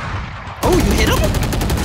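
Rapid gunfire sprays in a first-person shooter video game, a dense burst of shots starting abruptly and running loud and continuous, with no talk over it.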